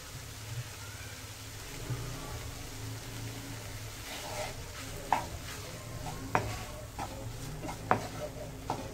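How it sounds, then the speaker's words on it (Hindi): Paneer cubes frying with tomato while being stirred in a pan, a soft steady sizzle with spoon scrapes and a few sharp clinks of the utensil on the pan toward the end. "इसे भी बहुत अच्छे से मिलाते हुए मैं इस पनीर को भी बहुत अच्छे से भूनूंगी टमाटर में"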